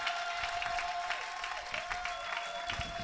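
Church congregation applauding steadily, a dense wash of clapping throughout with a sustained tone from music or a microphone beneath it.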